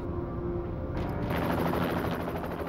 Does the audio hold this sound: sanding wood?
no